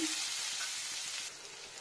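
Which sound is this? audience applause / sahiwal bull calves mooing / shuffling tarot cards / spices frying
spices frying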